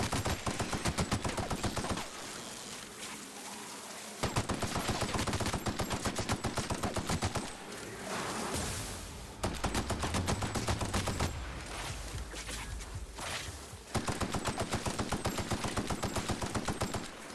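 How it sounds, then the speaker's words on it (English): Rapid automatic gunfire from shooting enemies in The Outer Worlds, loud, dense bursts of repeated shots with brief pauses between volleys, no talk over it. "So hard to shoot these things."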